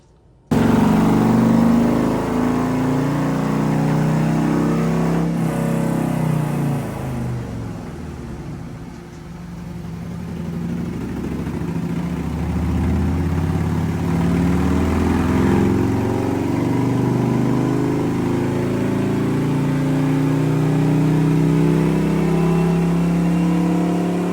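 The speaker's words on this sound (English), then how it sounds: "the bike is on the dyno and we're about to hook it up and get started" A 2022 Road Glide motorcycle with a 117 engine and a new cam runs on a dyno during a tune, a loud, steady engine drone whose pitch dips and then climbs again as it revs.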